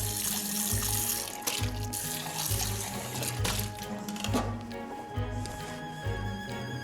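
Tap water runs steadily into a kitchen sink while a pot is rinsed, a continuous splashing rush with rhythmic clunks and sloshes as the pot is moved, close and fairly loud, no speech.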